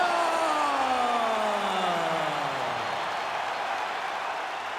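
Sustained crowd noise from a UFC arena during a fighter introduction, a loud, steady roar of cheering with descending whistle-like tones, holding throughout and easing slightly toward the end.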